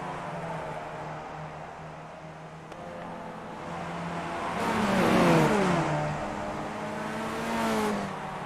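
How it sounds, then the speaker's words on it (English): In a racing video game, a race car's engine revs up as it crests a hill at Lime Rock Park. A steady drone rises into a sweeping, climbing whine before easing off, with no talking. "You can hear the engine rev up a little bit as he comes and car gets light over the top of the hill."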